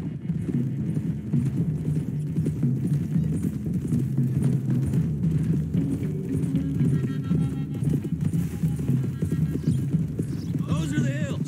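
Horses clip-clop at a steady gallop through the Red Dead Redemption 2 game world, a continuous rhythmic thudding that stays loud throughout, with someone talking over it and a brief whinny near the end.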